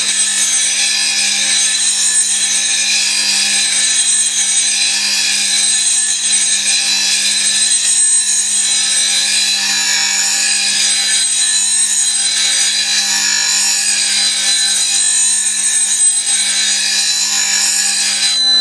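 A woodturning gouge bevel is rotated and pushed up a grinding wheel, making a loud, continuous close-up grinding hiss. The rasping swells and fades gently with the motion, with no speech.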